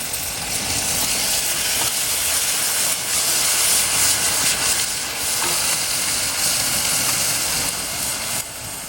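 Biryani masala of sesame and poppy seed paste sizzles and fries in a hot pan while being stirred, a steady close hiss with faint scraping throughout and no talking.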